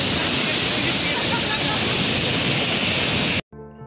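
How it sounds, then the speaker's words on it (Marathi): Palse waterfall in Tamhini Ghat roars loudly and steadily close by, a broad rushing wash that cuts off abruptly near the end. "पळशी धबधब्याच्या वरती आल्यावर हा धबधबा बघायला भेटतो तुम्हाला."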